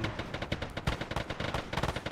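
Rapid bursts of rifle and machine-gun fire crackle in an Arma 3 squad firefight, sharp irregular shots overlapping in quick succession, loud and close with no voices.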